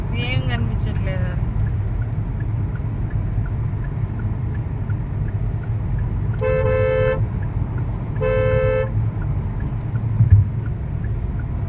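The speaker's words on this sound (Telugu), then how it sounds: "లారీ కూడా పోతాడు చూడ" A lorry rumbles by on a road while a vehicle horn blares in two distinct honks, one after the other, over constant engine and traffic noise, with a brief voice at the start.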